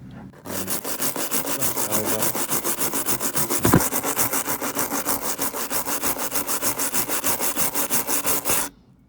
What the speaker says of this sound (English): I've taken this sort of steel wire brush and give it a good rub